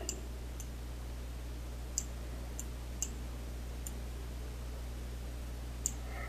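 Sharp computer mouse clicks while modeling vertices in Rhinoceros 3D, about five isolated clicks spaced a second or two apart, faint and close against a steady low hum.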